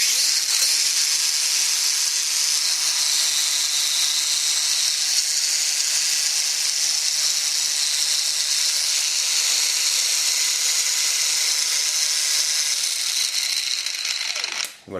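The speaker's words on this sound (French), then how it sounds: "mise en marche va permettre de démarrer la meuleuse" A Bosch GWS 18V-LI cordless angle grinder spins close and loud, holding a steady high-pitched whine for the whole stretch before it cuts off abruptly at the end.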